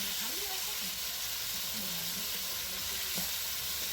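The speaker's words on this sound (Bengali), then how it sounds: "এবারে কেটে রাখা ফুলকপিগুলো দিয়ে দিলাম।" Cut cauliflower frying with lightly browned potatoes in a pan, giving a steady, dense sizzle that runs the whole time, close and even, with faint stirring underneath and no talking.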